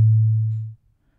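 A synthesized sine tone at a low pitch, fading in over 5 ms, holding for 50 ms, then releasing over a full second, heard alone as a single clean tone that decays away.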